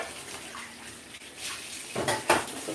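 Dishes and pots clatter and clink in water in a sink, with a steady wash of splashing and a few sharper knocks of cutlery near the end, close and alone.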